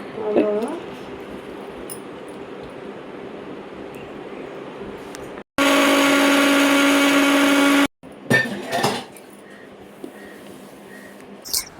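An old Sumeet mixer grinder runs with a loud, steady motor whine for about two seconds in the middle, followed by rattling and clatter, while people talk before and after.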